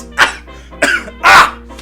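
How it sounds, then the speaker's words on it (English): Three loud, close coughs in quick succession, harsh and chesty, with brief pauses between them. "You coughed that right on me."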